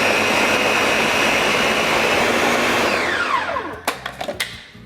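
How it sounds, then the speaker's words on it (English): A blender whirs loudly and steadily while pureeing a spicy Alfredo sauce, then winds down with a falling whine and a few clunks and rattles as it stops near the end. "we're just gonna blend this up until everything is nice and pureed and smooth"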